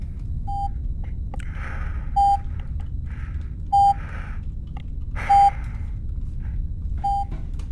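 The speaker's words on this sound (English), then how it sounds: "What's that beeping sound?" Repeated electronic beeps in the Chasmal Fear game, short high tones at steady intervals of about one and a half seconds over a low ambient drone.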